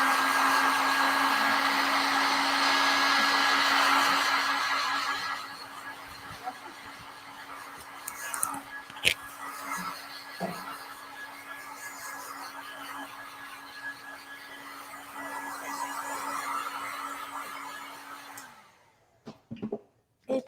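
A hair dryer blows steadily on fresh paint coating a matte wooden tissue box, loud and continuous for about five seconds, then a softer, ongoing whir with occasional knocks and handling clicks before cutting off near the end.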